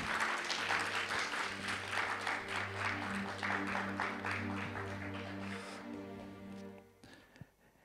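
A church congregation applauds steadily for several seconds, dense clapping that fades out toward the end over a sustained low organ-like tone.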